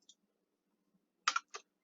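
A computer mouse gives a few sharp, close left clicks in an otherwise quiet room: one small click, then a quick double cluster and another click shortly after.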